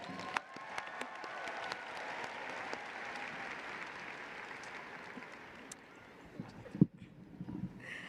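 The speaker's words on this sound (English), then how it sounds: "Please give a round of applause to all NHS members." A crowd applauds at the Cass Tech high school commencement ceremony in 2023. The clapping is faint and sustained, a steady wash of many hands with a few sharper claps standing out.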